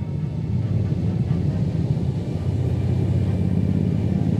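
A 2010 Triumph Thunderbird 1600 ABS motorcycle engine while riding, a steady low rumbling drone that holds even throughout, with no talking over it.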